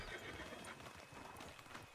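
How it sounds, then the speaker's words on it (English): Quiet horse hoofbeats clip-clopping with a neigh, from Red Dead Redemption 2 gameplay, faint and brief amid the game's ambient sound. "Hey, control that horse."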